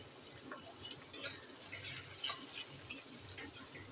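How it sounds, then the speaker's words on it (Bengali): Onion and garlic paste frying in a pan for a tilapia fish curry, with soft continuous sizzling and a spoon stirring and scraping in irregular strokes, fairly quiet and close, no talking. "পেঁয়াজ বাটা রসুন বাটাটা ভালো করে ভেজে নেব"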